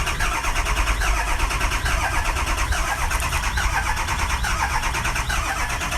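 A 2004 vehicle's engine cranking and catching by remote start, then running at a steady, loud idle with a busy mechanical whir that continues evenly, heard close and without voices.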